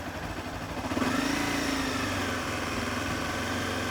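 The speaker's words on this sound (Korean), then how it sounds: "자 스로틀을 부드럽게 열어서 가속을 하는 거예요" A manual-gearbox motorcycle in first gear accelerates as the throttle is opened smoothly. The mid-pitched engine hum swells about a second in, then holds a steady, slightly louder drone close by.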